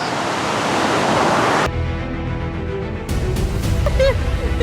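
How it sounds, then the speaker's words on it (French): A big ocean wave crashes loudly onto the Portuguese coast, a broad roaring surge that cuts off abruptly, followed by a quieter rumble and then more surf. "Vite, il y a la grosse vague."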